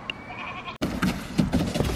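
Goats bleat faintly in the background amid a noisy barnyard scene, with a short sharp bump partway through.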